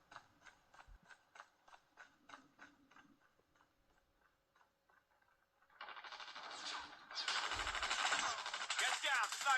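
Rhythmic ticking clicks give way to loud, sustained automatic gunfire in Call of Duty Mobile played on a Lenovo Tab P11 Gen 2, the shooting building to a dense continuous rattle toward the end.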